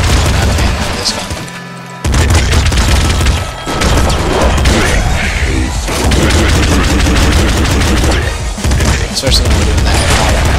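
Bullet weapons fire in the top-down shooter Nuclear Throne with rapid, dense bursts of gunshots, booms and crashing impacts, loud and nearly continuous, while a voice talks over the action.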